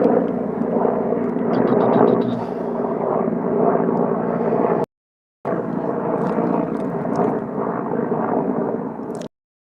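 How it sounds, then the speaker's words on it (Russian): Helicopter flying overhead near an airfield, a steady loud rotor and engine drone that holds for about five seconds, cuts out briefly, then returns just as strong before stopping. "сейчас вам покажу, вертолет летит"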